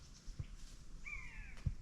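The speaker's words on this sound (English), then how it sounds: "It's a bird of prey up there calling. Sounds like an eagle, more likely a buzzard hawk." A buzzard hawk calls from high above a jungle canopy over an abandoned quarry: one thin, drawn-out descending cry, distant and faint against quiet forest background.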